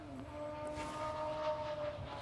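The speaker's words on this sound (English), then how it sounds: "Someone ripping on their fucking motorcycle." Motorcycle revving somewhere nearby outdoors, a distant droning engine with a rising and falling tonal whine that holds for about two seconds at moderate volume, with no talk.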